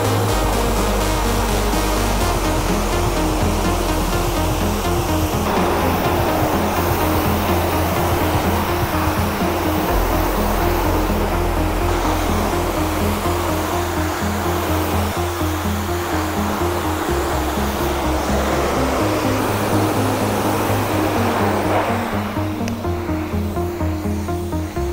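Steady high-pressure water spray rinses the foam off a convertible's fabric soft top, a loud continuous broadband hiss with shifting splashing texture running the whole time without talk.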